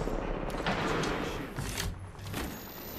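Gunfire in a video game match: a few muffled shots and booms over a steady busy game background, moderately loud, with no voices.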